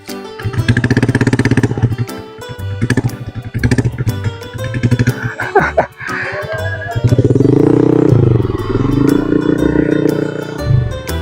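A modified motorcycle exhaust (knalpot) revs loudly and close during a night ride around Bekasi, with rough, throaty bursts rising and falling, one sharp pop and drop midway, then a sustained heavy roar.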